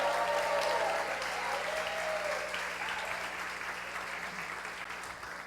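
A church congregation applauds in a sustained, moderately distant round of clapping with faint cheering mixed in, gradually fading toward the end.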